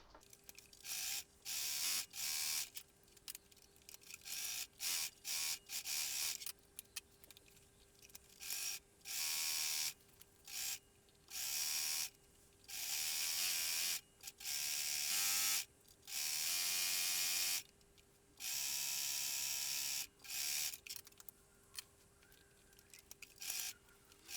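A sewing machine stitching jersey fabric with a zigzag stitch along dress seams runs in repeated steady bursts of a few seconds each, separated by brief stops. It is close and fairly quiet, with no voices.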